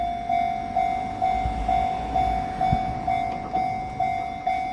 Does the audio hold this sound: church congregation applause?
no